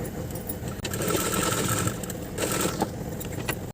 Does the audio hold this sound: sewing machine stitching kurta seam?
yes